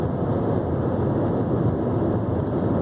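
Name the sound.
wind noise on sides of Jeep Renegade on highway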